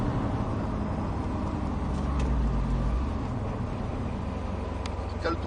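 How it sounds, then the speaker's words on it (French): A Subaru WRX STI brakes hard and downshifts, its engine giving a low, rumbling drone with a brief rev surge from a gear change partway through, heard from inside the cabin with steady road noise. "Et on freine fort et on rétrograde sans lâcher le frein."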